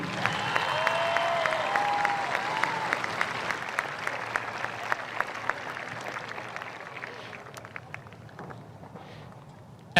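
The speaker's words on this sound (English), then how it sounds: "Let's give her one more round of applause," Veterans Day audience at a high school celebration applauds steadily with dense, sustained clapping that gradually thins toward the end, with some faint voices mixed in.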